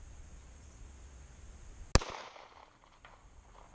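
A single loud gunshot from a Taurus 9mm Millennium Pro G2 pistol cracks sharply and fades quickly, with a quiet background before and after.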